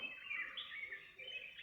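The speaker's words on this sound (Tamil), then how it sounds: "சத்தம் கேட்குதுங்களா? குருவிகளோட சத்தம்" Small birds chirp faintly in a bamboo forest at dawn on the Velliyangiri Hills, a brief run of thin, high tweets at a distance with no speech.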